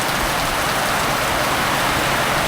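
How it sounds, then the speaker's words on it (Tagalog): Heavy rain pours down during a motorbike ride through floodwater in Cabanatuan City, a dense, loud, unbroken hiss of drops striking surfaces with no voices. "Lakas ng ulan mga master"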